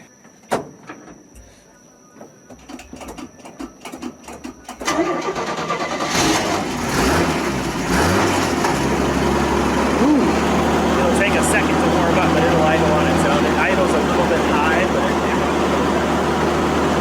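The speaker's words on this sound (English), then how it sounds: "She's cold, so it'll probably take a couple seconds of cranking it, but she'll fire up, absolutely." A cold car engine cranks for a few seconds with a whirring starter, catches and fires up, then settles into a steady, loud idle that continues to the end, with a person talking briefly beforehand.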